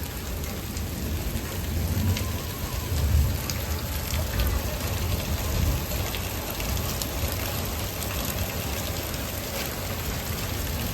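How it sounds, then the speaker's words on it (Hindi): Steady heavy patter of small hailstones striking surfaces, a continuous dense hiss with low rumbles underneath; nobody speaks. "उधर भी आगे भी देखो पूरे ओले बरस रहे छोटे छोटे"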